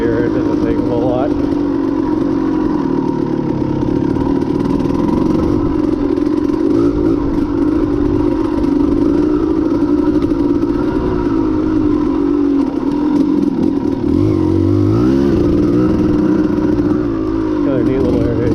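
A 1992 Kawasaki KDX200 dirt bike revs and labors through thick sugar sand, its two-stroke engine droning loudly and continuously with rising and falling pitch as gears catch, while wind buffets the rider.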